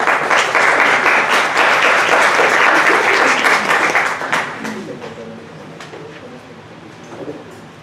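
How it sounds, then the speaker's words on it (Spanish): Loud audience applause for a professor at a medical session, with steady clapping that fades away over the last few seconds, leaving faint background noise. "Démosle un fuerte aplauso a nuestro profesor"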